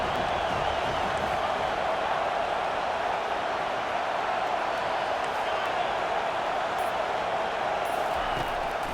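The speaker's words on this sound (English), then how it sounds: "Decibels rising as the crowd gets behind this defense on third down." A stadium crowd in a college football video game, UConn at Miami, makes a steady, dense roar on third down that holds at the same level throughout.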